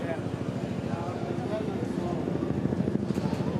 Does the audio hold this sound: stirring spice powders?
no